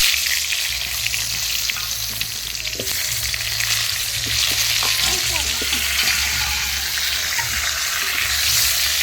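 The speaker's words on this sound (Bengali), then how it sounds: "গরম গরম তেলে আলু ছেড়ে দিয়েছি তো এখানে আলুটা ভালো করে লাল লাল করে ভেজে নেব" Potatoes frying in hot mustard oil over an outdoor clay stove, a loud, dense, steady sizzle with occasional stirring scrapes and a low rumbling hum underneath, heard close up.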